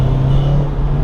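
Honda Civic Si FA5 with stock air box gives a steady low engine hum and intake drone at cruising revs, close and even throughout.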